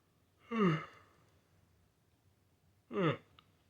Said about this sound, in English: Eyes water every single time I yawn